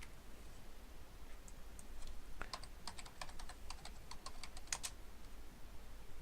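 Keys on a computer keyboard tapped out in a short burst while entering a password to log in to a Windows domain administrator account, quiet and close, irregular clicks over a faint background hum.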